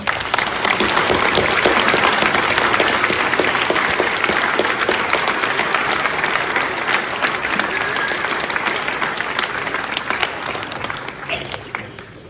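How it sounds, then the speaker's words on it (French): The audience at the Longpont-sur-Orge New Year's wishes ceremony applauds its volunteer association members, a loud, sustained wall of many hands clapping that lasts about twelve seconds and slowly fades toward the end, with faint voices underneath. "je crois qu'on peut vous applaudir très très fort"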